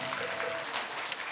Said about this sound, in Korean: 우리 큰 스님 모십니다. 큰 박수 부탁드리겠습니다.